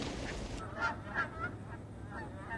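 Several geese honk at Blackwater National Wildlife Refuge in Maryland, a string of clear, moderately distant calls spaced over a steady outdoor background.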